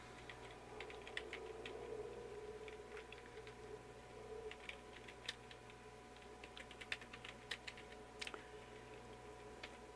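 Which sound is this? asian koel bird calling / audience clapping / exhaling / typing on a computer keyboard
typing on a computer keyboard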